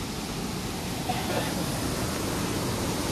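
Jhari Pani Falls near Mussoorie roars as a steady, dense rush of falling water, loud and close, continuous throughout, with a voice faintly present under it.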